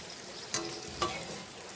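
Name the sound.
mango luchi frying in hot oil in a kadai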